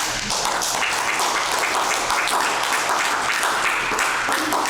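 Steady applause from a crowd, a dense continuous patter of clapping hands that fills the whole stretch at an even level.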